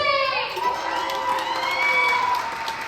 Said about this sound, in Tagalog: sigawan at hiyawan para naman po kay Kuya JJ!